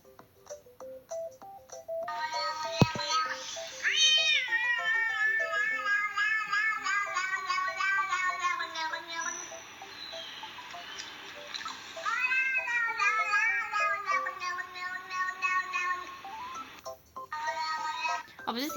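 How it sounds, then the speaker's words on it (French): A cat meows repeatedly in a playful, tuneful pattern, the calls stretching and rising across most of the stretch with brief pauses between phrases, loud and close with no talking. "Oh, j'ai tellement envie de mettre une musique de chat."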